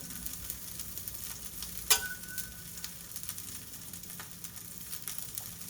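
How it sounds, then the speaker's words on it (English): Burger patties sizzle softly and steadily in a hot pan, with a brief sharp click partway through. "But you can hear that sizzle."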